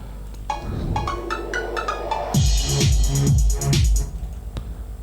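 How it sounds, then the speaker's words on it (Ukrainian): Bright, crisp cymbal-sample hits tick rapidly over a deep electronic phonk beat in FL Studio after a short run of plucked synth notes. "Я знайшов ось таку тарілку."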